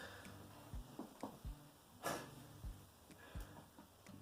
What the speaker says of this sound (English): The noise you're hearing is my dogs in the ground playing with their toys.